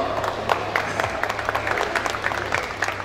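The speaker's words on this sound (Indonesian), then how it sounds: "tepuk tangan dong" An audience claps at a campus talent showcase, brief scattered applause with distinct individual claps over a low hum, moderately loud and without speech.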